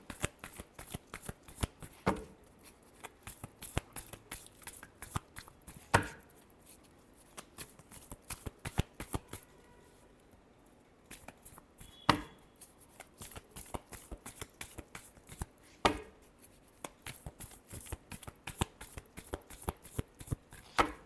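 A deck of tarot cards is shuffled close up in quick riffling bursts, with dense rapid flicks and sharp slaps of the deck repeating over and over, occasionally pausing briefly, and no voices.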